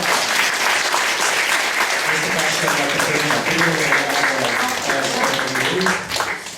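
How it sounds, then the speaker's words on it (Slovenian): Applause breaks out at a Slovenian civic clean-up project event, a steady roomful of clapping that holds for several seconds while a voice talks over it, easing off near the end. "En aplavz za Tjašo"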